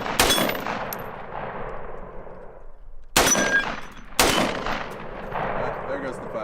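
7.62 rifle rounds fire at targets 25 yards away on an outdoor range, three sharp close shots with ringing decay, the first, then two more in quick succession about a second apart.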